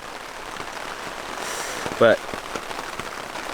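Steady rain patters on a hiking trail in Idaho's Selway-Bitterroot Wilderness, a constant hiss of drops with a brief spoken word partway through.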